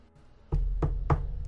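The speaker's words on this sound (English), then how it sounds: "Finally, a knock at the door." Three firm knocks on a door in an even rhythm, close and fairly loud, with a low muffled room hum underneath and no voices.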